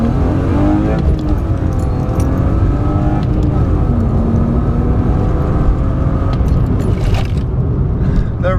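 An engine-swapped BMW E36 pulls hard in first gear, its engine note climbing steadily in pitch through a loud, continuous rev with no break, heard from inside the car.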